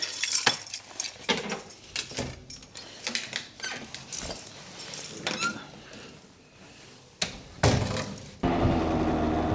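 A set of keys jingles and clinks in a few short bursts, close and bright, amid handling noise and a gusty outdoor rush near the end.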